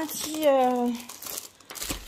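Plastic wrapping crinkles and crackles as a packaged art canvas is unwrapped, with someone talking over the rustling throughout.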